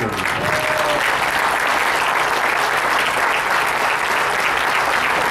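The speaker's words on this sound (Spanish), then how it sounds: "Denle un fuerte aplauso a Dios." A church congregation applauds together in a sustained, even burst of clapping that fills the room without a break, with no voices standing out.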